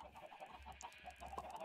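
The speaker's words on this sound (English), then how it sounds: "Chickens, breed for my entertainment." Chickens clucking on a farm in a video game, soft repeated clucks over a low steady hum, faint and close together.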